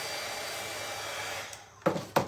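A heat tool blows a steady stream of hot air over a craft piece being refinished from a Goodwill frame, a continuous close whoosh that eases off near the end, followed by two short knocks.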